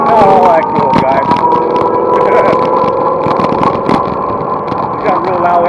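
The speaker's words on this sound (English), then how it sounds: "You got a real loud engine and everything," A loud engine rumbles and drones close by, with a person talking over the steady roar.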